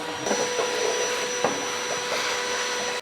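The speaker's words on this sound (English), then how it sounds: "So now that I've got all the dirt and dust vacuumed up" A shop vac runs steadily and loudly, sucking up dirt and dust from inside the cab of a 4WD under restoration, with faint scraping and knocks as the nozzle moves around.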